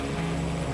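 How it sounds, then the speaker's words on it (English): Low, steady rotor and engine drone of a helicopter, continuous and moderately loud throughout, with no talk over it. "Wait, is that a helicopter?"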